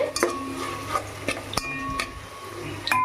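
Tamarind frying in oil for Telugu punugulu is stirred with a metal spoon, giving sharp clinks and scrapes against the pan at irregular intervals over a soft, steady sizzle. No voices.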